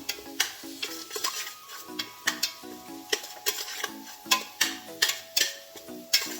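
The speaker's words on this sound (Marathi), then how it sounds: "हा मसाला आपल्याला 2 ते 3 मिनिटं व्यवस्थित फोडणीमध्ये परतून घ्यायचा आहे" Spices being sautéed: a spatula clinks and scrapes against a pan in quick, regular strokes, with a faint sizzle beneath.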